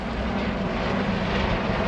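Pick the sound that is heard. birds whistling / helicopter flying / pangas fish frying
helicopter flying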